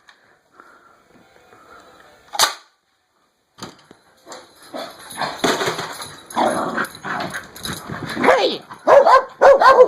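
Several dogs, including a husky, bark and yip excitedly at a noise in a home, loud close bursts that start sparse and then build into a rapid overlapping chorus, with a person shouting briefly.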